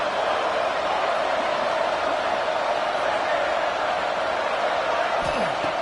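Roar of a stadium crowd at a football game, a steady dense wash of cheering and noise that holds at an even level for the whole stretch, with no clear single voices standing out.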